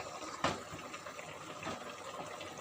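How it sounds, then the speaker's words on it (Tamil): Basmati rice for prawn biryani is tipped into a pot of boiling water, giving one short splash followed by a soft, steady bubbling and rushing of water, fairly quiet and with no voices. "இப்போ அரிசி போட்டுடலாம்."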